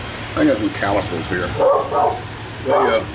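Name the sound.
dog barking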